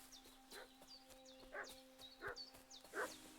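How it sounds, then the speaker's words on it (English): A dog in the video game Kingdom Come: Deliverance II barks and yips several times in short bursts, faint and somewhat distant, over a steady low hum. "Uh-oh, I hear barking."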